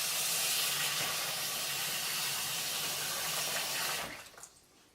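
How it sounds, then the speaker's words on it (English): Water from a tap pours steadily onto white rice in a kitchen to rinse off starch, a close, even hissing rush that cuts off sharply near the end, leaving a quiet drip. "Add a little water. Give it a little spin around."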